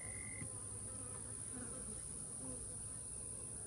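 Honeybees buzz around an opened hive box during a swarm inspection, a continuous, dense hum of many insects close by, fairly quiet with a faint high whine over it and no one speaking.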